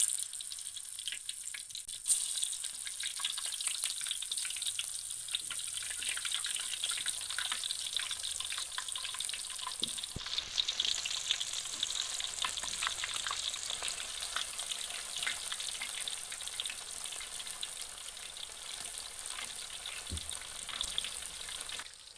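Thin slices of tanduk banana frying in hot oil for crispy chips, a steady close bubbling sizzle that holds evenly throughout, with a few soft knocks from stirring and no voices.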